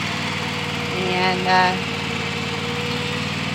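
A zero-turn lawn mower engine runs steadily at close range with a constant droning hum while the machine is driven onto a trailer, rising briefly in the middle as a voice speaks over it.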